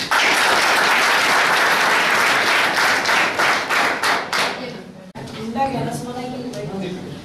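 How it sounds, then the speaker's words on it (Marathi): An audience at a Save Girl Child workshop in Ahmednagar claps in loud, dense applause for about five seconds. It then breaks off abruptly and a person starts speaking. "टाळ्या वाजवा."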